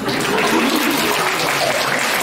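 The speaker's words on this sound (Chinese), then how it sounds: "鼓掌！" A dense, continuous wash of audience applause fills a crosstalk show at Beijing's Guangdelou theatre. It is loud and unbroken throughout.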